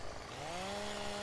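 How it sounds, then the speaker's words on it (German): A chainsaw in the Farming Simulator 17 video game cuts through a tree trunk for firewood, its engine whining loud and steady while the pitch sags slightly under load. "dann gehe ich das tatsächlich mal her und säge hier 7 Meter ab"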